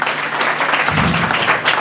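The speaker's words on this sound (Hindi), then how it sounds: "तालियां बजाते रहिए" An audience at a stage event claps loudly and continuously, a thick wash of many hands with a low rumble joining midway.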